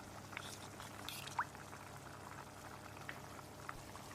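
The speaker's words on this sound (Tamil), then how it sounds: "ஒரு 1/4 கப் அளவுக்கு தண்ணி ஊற்றி கலந்து விட்டு வாணலியில் ஊற்றிக்கலாம்." Roasted spice paste mixed with water is poured into a pan for a vatha kuzhambu made with manathakkali and chickpeas, giving a faint, soft bubbling sizzle with a few quiet splashes.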